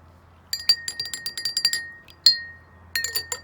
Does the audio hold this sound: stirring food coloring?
yes